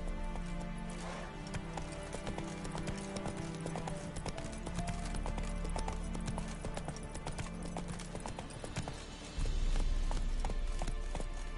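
A horse gallops in The Witcher 3 video game, with a steady, rapid clip-clop of hooves up close over a busy game soundscape and a louder thump near the end.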